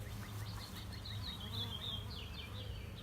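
Honeybees buzz in a dense, continuous drone around an open hive during a queen-right split installation, loud and close, with no talking.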